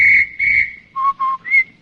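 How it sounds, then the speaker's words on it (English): A shrill whistle blows five short blasts in a quick pattern, two high, two lower, then one high, loud and close. "you hear a policeman's whistle that goes like this"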